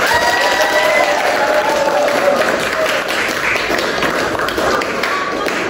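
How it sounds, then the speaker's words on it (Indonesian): Students in a classroom clapping together, loud, close and fairly even, with some faint voices mixed into the clapping. "berikan tepuk tangan buat kita semua"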